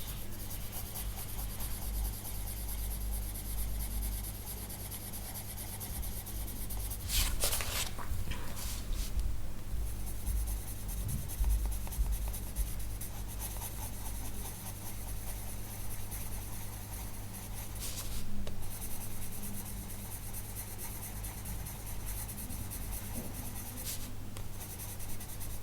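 Turquoise colored pencil worked over paper in a colouring book with a super light touch, giving a continuous soft scratchy rubbing that swells briefly in places, close up and with no one talking.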